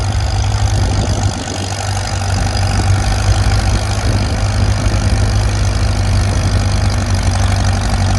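An antique John Deere H tractor pulls a two-bottom plow at a plow day, its engine running steadily close by with a low, throbbing chug and no voices.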